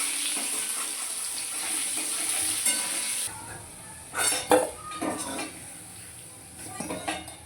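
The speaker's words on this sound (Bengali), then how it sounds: "জিরে, তেজপাতা ফোড়ন দিয়ে আলুটা ভেজে নিল।" Potatoes frying with cumin and bay leaf tempering in a pan while a fish curry is cooked. A hissing sizzle fills the first half, then quieter frying follows, broken by a few clanks of a utensil against the pan.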